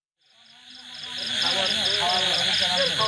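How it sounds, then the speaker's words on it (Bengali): Crickets chirp in a steady pulsing trill at night along the Jamalpur border, rising out of silence and continuing under a narrator's speaking voice. "চারপাশে নিস্তব্ধতা। সীমান্ত জুড়ে ভেসে আসছে শুধু ঝিঝি পোকার"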